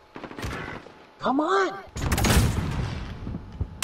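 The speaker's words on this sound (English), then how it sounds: "He's shooting at me the whole time." Call of Duty Modern Warfare gunfire hammers in rapid, loud bursts, mixed with a tonal in-game sound effect, while a player shouts briefly over the shooting.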